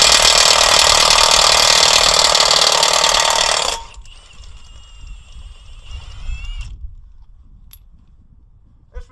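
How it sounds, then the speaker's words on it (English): A Milwaukee impact wrench rattles loudly and continuously for nearly four seconds while taking car lug nuts off outdoors, then stops, leaving quieter clinks and handling noises. "This Milwaukee Impact does take lug nuts off."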